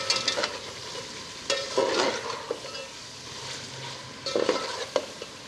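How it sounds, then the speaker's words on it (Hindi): Mutton tripe (ojri) sizzles in oil with garam masala while a spoon stirs and scrapes the pan in several bursts, a steady frying hiss running beneath. "थोड़ी देर के लिए और भून लेंगे।"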